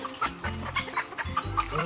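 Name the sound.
chicken clucking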